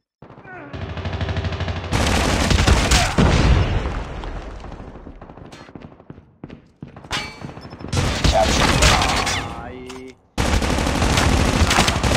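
Rapid bursts of S36 rifle fire in a ranked online shooter match, loud automatic volleys broken by short pauses, with game voice callouts layered over the shooting.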